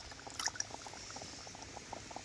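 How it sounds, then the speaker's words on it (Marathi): Water pours from a small pot into a pan of rustic taro leaf roll curry, a close gurgling, bubbling flow with light splashes throughout. "मी एक तांब्या पाणी टाकून घेतलंय"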